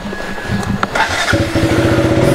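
A motorcycle engine cranks and catches, settling into a steady, close putter after a brief clatter.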